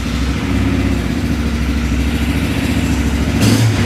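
An ATV 300 gardan 4x2 engine runs steadily nearby with a constant, loud low rumble and a slight rise at the end, no talking.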